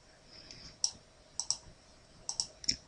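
Several sharp computer mouse clicks, single and in quick pairs, spread irregularly across a quiet stretch while a theme folder is selected on a computer.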